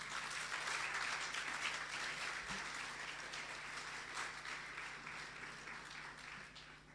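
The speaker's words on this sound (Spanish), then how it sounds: "¿Cuántos aplauden esa palabra?" A church congregation applauds in a steady, continuous wash of many hands clapping. The sound is fairly distant and fades slowly over several seconds.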